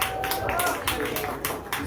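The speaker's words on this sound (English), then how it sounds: "Clap her up for Sammy Blocker" Scattered applause from a small stand-up comedy audience, brief and moderately faint, with crowd voices mixed in.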